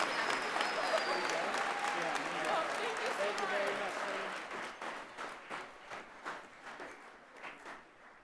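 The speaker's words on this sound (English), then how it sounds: "Give them all another round of applause." An audience at the SkillsUSA Pennsylvania 2019 opening ceremony applauds in a full, dense burst that thins out into scattered individual claps as it fades.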